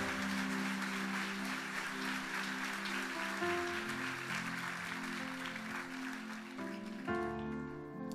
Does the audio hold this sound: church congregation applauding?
yes